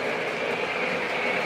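O-gauge model steam train with wood-sided cars rolling along its track, a steady close whirring rumble with faint rhythmic clicking of wheels, continuous and unbroken.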